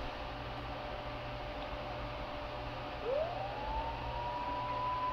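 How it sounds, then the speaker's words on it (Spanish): A siren in the video game Max Payne 2 rises in pitch and holds a steady wail over a constant background hum, starting partway through and fairly faint, with no talk. "Mona debe de haber oído también la sirena."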